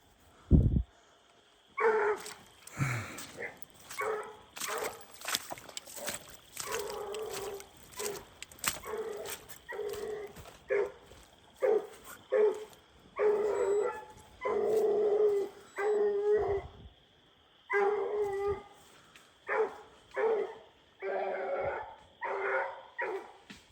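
A hunting dog at night out on a raccoon hunt, barking and bawling in long repeated bursts with short pauses between them, loud and fairly close, with no one talking.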